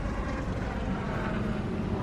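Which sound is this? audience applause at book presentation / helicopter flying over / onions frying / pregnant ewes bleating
helicopter flying over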